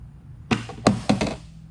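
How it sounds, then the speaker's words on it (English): The door of a dry box is opened during a repair, giving a few sharp knocking thunks in quick succession, close and fairly loud, then quiet. "Opening the door."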